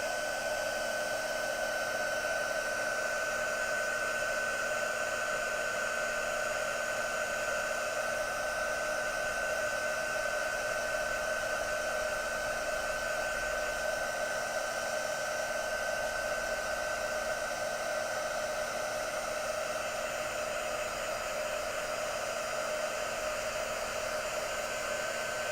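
A heat gun blows steadily and loudly for the whole stretch, a constant airy whir with a faint whine as it melts embossing powder on a handmade card.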